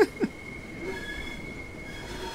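A video game train brakes with a thin, high metallic wheel squeal over a low rolling rumble, steady and moderately loud after two brief knocks at the start.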